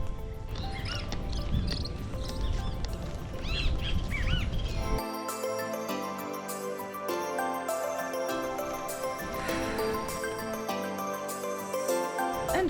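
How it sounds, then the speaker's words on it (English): Yellow-bellied birds call in Puerto Escondido, Mexico, with quick, high chirps and squeaky tweets at close range for several seconds before music takes over and mostly covers them. "Loads and loads of birds with yellow belly."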